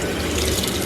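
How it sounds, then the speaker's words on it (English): Water running steadily into a washing machine in Japan, a continuous close rushing flow like a tap filling a drum, with no talk. "Sounds like water."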